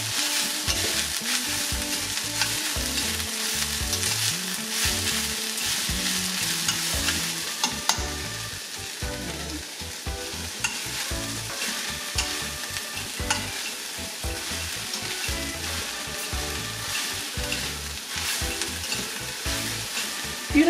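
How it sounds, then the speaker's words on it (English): Corned beef and onion stirred together in a hot frying pan. A loud, dense, continuous sizzle and crackle is heard close up, with steady scraping and stirring throughout and no voices. "So mix it well with the onion."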